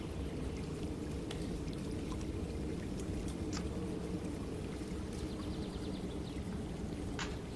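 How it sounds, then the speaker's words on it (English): A continuous wash of flowing water in a fantasy game world, like pouring or lapping water with occasional faint clicks and drips on top, steady and moderately quiet, with no one talking. "I don't recall there being a water sound here, but I guess there is now."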